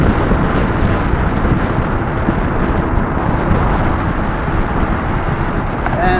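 Warm wind rushing steadily past the microphone, a dense, continuous roar with no breaks that stays loud and close for the whole stretch.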